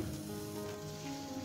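Cabbage and bell peppers hitting a hot pot, a steady close sizzle and crackle of frying vegetables that continues evenly throughout, with no talking.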